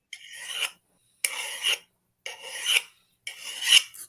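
A hand file rasping across a workpiece in four steady strokes, each a harsh scraping rasp about half a second long separated by short pauses, close and clear with no talk.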